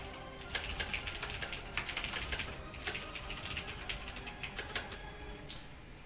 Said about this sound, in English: So basically, I come in here and type a story, type an article, type a blog, whatever you want to do, and whatever I type